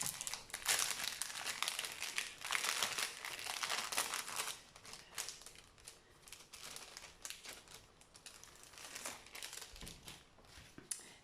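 Paper from a mailed parcel being torn open and crumpled, giving dense, close crinkling and ripping that is loudest at first and then continues in lighter, scattered crackles.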